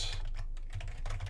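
Quiet keyboard typing at a computer while working in the Unreal Engine editor, a short run of soft key taps over a faint steady background hum.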